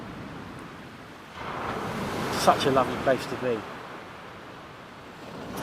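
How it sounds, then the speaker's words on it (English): Surf washes onto a beach at night, a soft continuous rumble of breaking waves that rises after the first second, with someone speaking briefly over it. "it's reflecting off the waves that are crashing in the surf"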